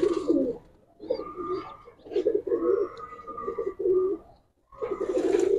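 Pigeons, silver Mushaldom birds in a seller's loft, coo in repeated low throaty phrases, close and fairly loud, with short pauses between bursts and no talk.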